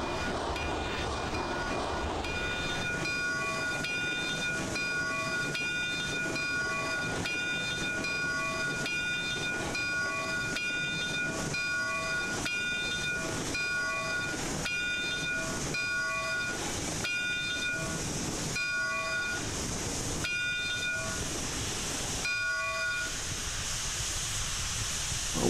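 Steam locomotive running in the railroad simulation game Railroads Online, with a steady hissing chuff, rhythmic exhaust beats and a continuous mechanical rumble over about 25 seconds, loud and close with no talk.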